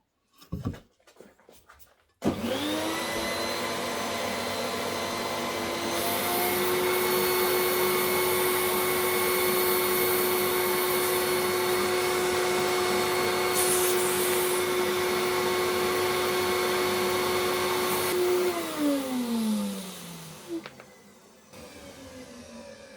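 A household hoover switches on after a brief pause and runs loudly and steadily for about sixteen seconds with a constant whine, then winds down and stops near the end, with no talk over it.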